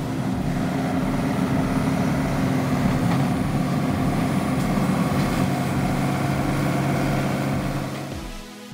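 A tractor engine runs in a permaculture garden at a music school on Corfu, a loud, steady, close drone that holds evenly and eases off slightly at the end.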